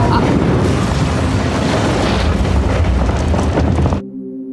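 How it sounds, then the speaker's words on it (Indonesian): A film explosion in the Joker that blasts everyone in a courtroom, a loud, dense roaring boom with rumbling debris lasting about four seconds before abruptly dropping to a faint low tone. "tiba-tiba saja terjadi ledakan yang menghempaskan semua orang"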